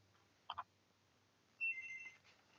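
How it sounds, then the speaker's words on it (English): A phone goes off with two soft blips followed by a brief, faint tonal ringtone in a quiet room. "So that's the phone going off."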